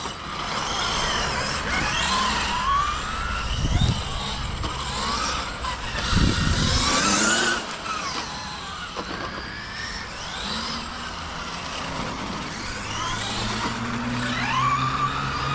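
An R-Mamba Power RC race truck with a 32s setup, running on tarmac, whines and buzzes as its electric motor speeds up and slows, with pitch sweeping up and down and bursts of tire and drivetrain noise.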